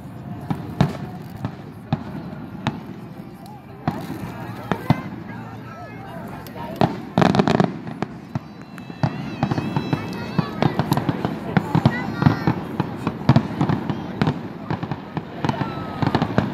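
Fireworks pop and crackle in scattered bursts at a distance while people chatter nearby and a crowd murmurs.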